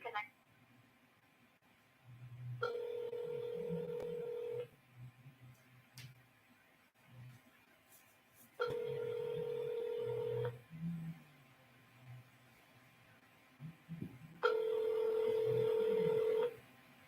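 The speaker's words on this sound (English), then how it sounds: "please dial extension 277 and leave a message in the confidential voicemail box" Telephone keypad tones sound as three long, steady beeps spaced a few seconds apart, with a faint low murmur in the gaps between them.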